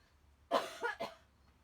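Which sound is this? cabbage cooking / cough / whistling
cough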